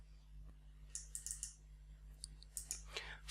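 Faint computer mouse clicks come in small clusters of quick light taps spread across a few seconds, set against a quiet low electrical hum.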